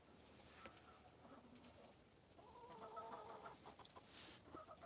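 A leghorn cross hen clucks softly in a chicken coop, giving a short run of quiet, rhythmic clucks over a steady background hiss and a faint high-pitched whine.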